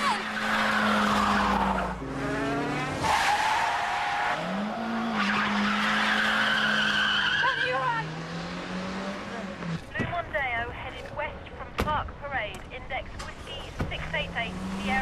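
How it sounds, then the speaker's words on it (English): A blue Ford Mondeo speeds off from police along Branwell Road, its tyres squealing and engine roaring loudly, with skidding bursts and shouting voices over it. "we have a visual on a blue Ford Mondeo. Heading south on Branwell Road at speed."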